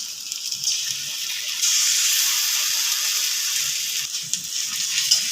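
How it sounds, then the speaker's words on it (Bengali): Onion frying with ginger-garlic and whole spice paste in a pan gives a steady bright hiss and sizzle, continuous and close, with faint scraping underneath. "পেঁয়াজের সঙ্গে এবার মশলাটা ভালো করে কষবো।"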